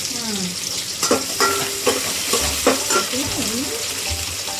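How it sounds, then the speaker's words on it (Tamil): Garlic and small shallots frying in oil for a fish curry make a steady sizzle, with intermittent clatters of a spoon stirring the pan while a voice speaks over it. "கொஞ்சம் பூண்டு ஃப்ரை ஆனதுக்கப்புறம் வெங்காயம். ஓகே, சின்ன வெங்காயம் அதில் கொஞ்சம் உப்பு போடணும்"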